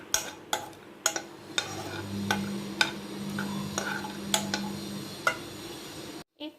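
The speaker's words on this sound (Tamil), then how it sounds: "முந்திரி, கிறிஸ்மஸ் பழம் ரெண்டையுமே எடுத்து உள்ளே போட்டு வறுத்து விட்டுக்கோங்க" Cashews and raisins frying in hot ghee give a soft steady sizzle, punctuated by sharp clinks of a spoon stirring against the pan.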